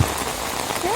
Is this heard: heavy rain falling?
yes